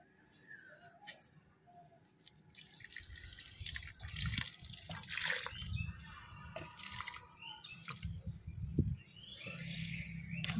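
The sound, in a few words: watering plants with a little water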